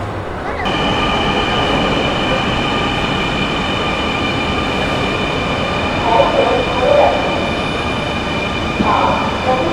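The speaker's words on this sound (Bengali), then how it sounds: "আমরা এখন আছি বিজয় সরণি স্টেশন" A Dhaka Metro Rail train at Bijoy Sarani station, a loud, steady rumble of the carriage in motion with a sustained high whine and a few faint squeals later on.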